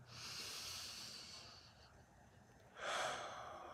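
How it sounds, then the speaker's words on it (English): Deep slow breaths drawn outdoors on a front porch at night, a long airy inhale-exhale followed by a second strong breath, close and breathy over quiet surroundings. "Getting those deep breaths in."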